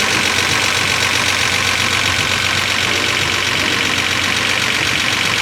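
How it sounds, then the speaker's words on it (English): A car engine idles steadily and close in a workshop with a constant rumbling drone, with a faint fast ticking from a suspected faulty injector under the hum and no voices. "Is the injector ticking? It is."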